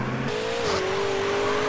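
A convertible car's engine in GTA San Andreas Multiplayer drones steadily and loudly with a slight rise in pitch, alone with no talk.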